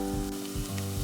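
Garlic sautés in oil inside a pressure cooker with a brief, close, steady sizzle, heard alone for about a second.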